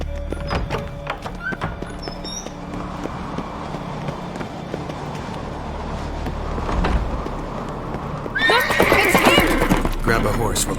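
Horses from The Witcher 3 whinny loudly and gallop with clip-clop hoofbeats in a game scene, with the hooves and a sharp neigh growing louder toward the end over background music and voices.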